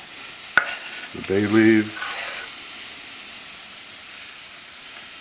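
Peppers, celery and shrimp jambalaya ingredients sizzle in a pan with a steady frying hiss and some stirring, while a voice briefly speaks over it.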